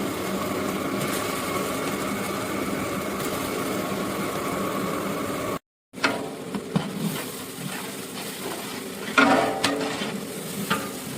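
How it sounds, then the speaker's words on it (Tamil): Ginger garlic paste, 800 g each of ginger and garlic, fries in a large pot for a 10 kg mutton dum biryani, a steady loud sizzle with scraping stirs, a brief dropout midway, then clattering stirring bursts. "இந்த இஞ்சி பூண்டு பேஸ்ட் வாசனை போனங்க போகிற வரைக்கும் வந்து நம்ம இதை வறுத்துட்டே இருக்கோம்"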